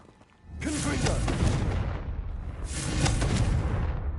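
A Confringo blasting spell goes off in the Hogwarts Legacy video game, two heavy booming explosions in a row, each with a whooshing burst that rumbles and decays, loud and close.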